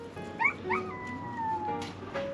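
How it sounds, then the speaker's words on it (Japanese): A dog howls at a lakeside campground during a barbecue, giving faint, drawn-out, wavering howls that rise and fall over quiet outdoor ambience with no talk. "遠吠えしてる。"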